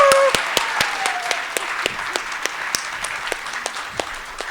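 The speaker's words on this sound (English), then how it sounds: "I would love to have a round of applause for that." Audience applause at a SANBio annual event, heard as a modest, scattered patter of claps with distinct sharp hand strikes at a fairly regular pace, gradually softening over a few seconds.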